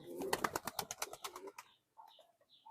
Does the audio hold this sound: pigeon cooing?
yes